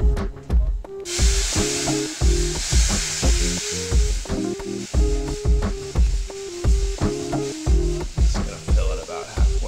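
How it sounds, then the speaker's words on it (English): A steady hiss of boiling water sizzling as it is poured into a hot pie pan in an oven, running under loud rhythmic music with regular percussive beats. "I'm going to pour some boiling hot water into this pie pan on the right to steam the oven"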